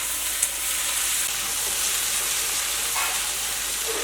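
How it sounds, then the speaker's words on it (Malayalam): Sliced onions fry in a pan over a flame until soft, giving a steady, even sizzle and hiss with a faint stir or two and no one talking. "ഈ നമ്മുടെ സവോള നന്നായിട്ട് വളർന്ന് നല്ല സോഫ്റ്റ് ആയിട്ട് വരണം"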